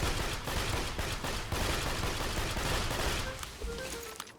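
Rapid, dense gunfire in Borderlands 2 as a gun magazine is emptied, a continuous loud burst of shots lasting several seconds before thinning out near the end.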